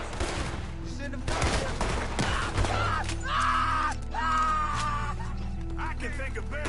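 Gunfire in Red Dead Redemption 2, several sharp shots and crackling bursts beneath game character voices and a low musical drone, fairly loud and irregular.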